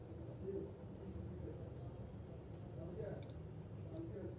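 A multimeter in continuity mode gives one short, steady high-pitched beep while its probes test a MOSFET, faint against a low hum and background noise.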